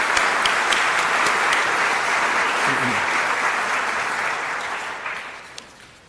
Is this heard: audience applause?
yes